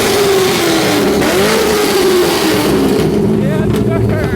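A V8 Dodge Charger with Corsa exhaust and Corsa intake, its engine held at a loud, steady rev up close, with a rising then falling engine tone, and people talking over it.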